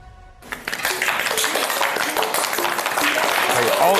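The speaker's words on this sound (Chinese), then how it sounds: "现场鼓掌了，现场鼓掌了" An audience at a televised debate competition breaks into steady applause that swells and holds. Voices and tonal sounds ring over the dense clapping.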